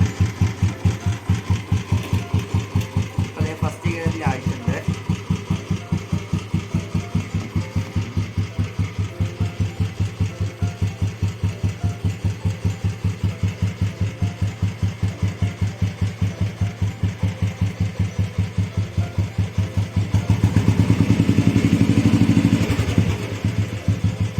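A Royal Enfield Bullet motorcycle engine thumps steadily at idle in a close, even single-cylinder beat, with the revs briefly rising and roaring louder near the end.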